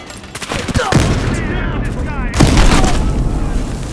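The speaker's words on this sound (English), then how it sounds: "Throwing grenade!" A grenade blast in Battlefield Hardline multiplayer heist mode lands among heavy gunfire, its boom bursting out loudly mid-clip, with a shouted voice over the rapid shooting.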